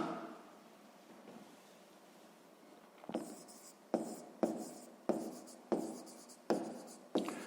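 Writing by hand on paper during a sixth-grade maths exercise: soft scratching at first, then a series of about seven distinct, evenly spaced pen strokes or taps, close and fairly quiet.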